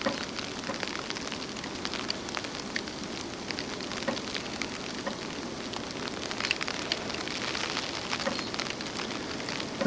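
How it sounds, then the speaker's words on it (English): Sleet falling outdoors on a February morning, a steady dense patter of small ice pellets tapping surfaces, constant and moderately faint with no talk. "Now the sleet is almost starting to taper off."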